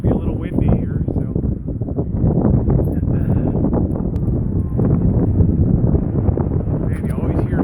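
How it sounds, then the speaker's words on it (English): Steady wind gusts rumble and buffet a microphone outdoors beside a rose garden during a metal-detecting outing, a dense low roar that holds for the whole stretch with no pauses. "Might be a little windy here"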